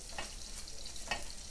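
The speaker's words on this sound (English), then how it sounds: "we're gonna keep stirring until the rice browns a little bit." Rice frying in a pot while being stirred, a continuous sizzle with two brief scraping stir strokes, close and moderately quiet.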